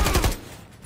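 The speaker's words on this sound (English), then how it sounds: "that's a shotgun" Shotgun fire in a video game: a short, loud burst of rapid blasts at close range, then a quick fade into quiet, with no talk.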